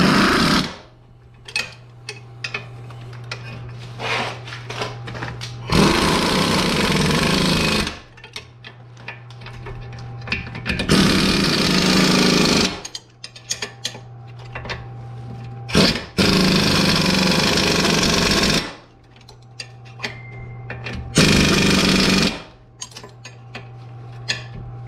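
A power tool tightens bolts on a 2009 Toyota Camry strut in loud repeated bursts of a few seconds each, with a clicking, rattling hum between them.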